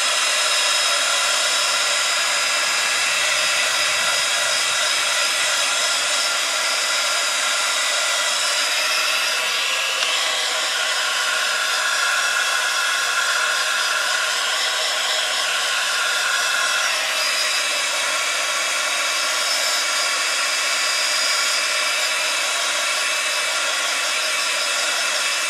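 A hair dryer blows steadily on fountain pen ink while crafting, a loud continuous close-up whoosh and whine lasting the whole time with slight shifts in pitch and no talk.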